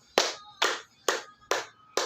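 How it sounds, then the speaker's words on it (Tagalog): Five slow, evenly spaced group claps from a classroom of students praising two classmates, each a sharp burst that fades before the next, with no talking. "Bigyan naman natin si Sarah at si Desiree ng 5 ring palakpak"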